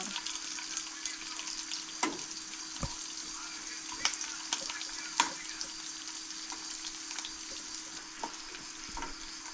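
Grasshoppers deep-frying in hot oil until crispy, a steady close sizzling hiss with scattered sharp pops and spatters throughout.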